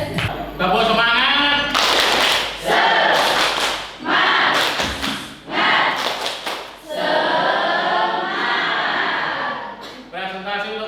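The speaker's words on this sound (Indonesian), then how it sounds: "Tepuk semangat." A group of people in a classroom teaching session performs a rhythmic spirit clap, bursts of hand claps alternating with loud chanting voices in a steady pattern.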